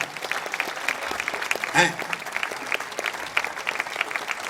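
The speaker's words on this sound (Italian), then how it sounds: "Facciamo un applauso a Chiara" Steady applause from an outdoor crowd in a town square in Jesolo fills the whole stretch, with a brief voice rising over the clapping partway through.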